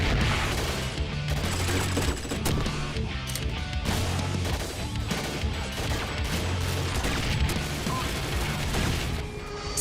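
Weapons fire at a virtual shooting range in Gun Club VR, a dense, continuous barrage of rapid gunshots and mechanical clatter that stays loud throughout.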